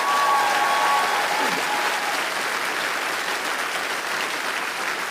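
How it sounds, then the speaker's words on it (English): Applause fills a comedy club as the audience claps steadily at a stand-up show. The dense, even clapping starts loud and eases slightly over the final seconds, with no talk over it. "Thank you for applauding that."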